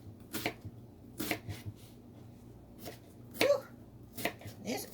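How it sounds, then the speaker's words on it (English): A knife chops through a fresh onion on a cutting board during home cooking, sounding as a series of sharp, fairly close cuts in irregular bursts with quiet pauses between them, with no voices. "let's get to chopping this onion."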